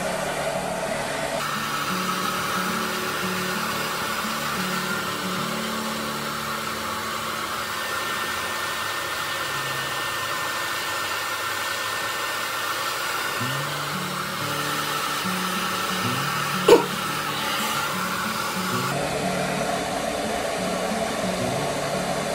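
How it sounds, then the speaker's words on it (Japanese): A hair dryer blows steadily and close while a stylist dries and shapes short hair, a continuous loud whoosh with brief pauses and shifts in tone as it moves around the head and a short click near the end. "若干こっちにこう流しながら乾かしますね"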